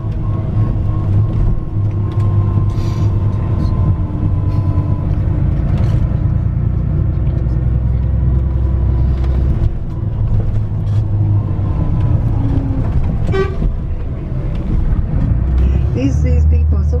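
Steady urban road traffic on a Dublin street, a continuous close rumble of passing cars with engines revving and whirring, loud throughout with no break.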